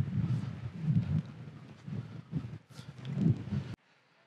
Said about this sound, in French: On a trop de vent, on est trop haut encore ici.